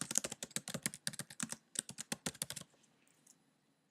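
Rapid keystrokes on a computer keyboard, close and crisp, a steady burst of clicks for about two and a half seconds before stopping, followed by near silence with a couple of faint taps.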